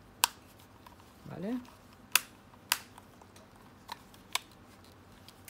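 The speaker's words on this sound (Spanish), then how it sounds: "escuchamos los clics de cierre" Plastic closing clips of a PS5 controller shell snap shut in a series of sharp, separate clicks spaced about half a second to a second apart, close and crisp, with a short spoken word in the middle.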